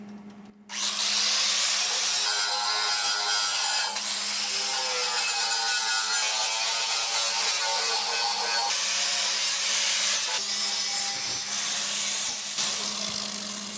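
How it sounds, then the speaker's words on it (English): An angle grinder cuts through the metal heat shield of a Cub Cadet 2166 mower, a loud, harsh, steady whine running close and almost unbroken for over ten seconds with slight dips in pressure. "I've got a grinder. Just cut it off."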